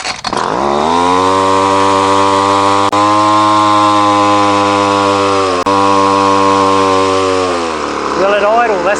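A gas line trimmer engine catches after priming and choking, then runs loud and steady at a high buzzing pitch for several seconds before the revs drop and wobble toward the end.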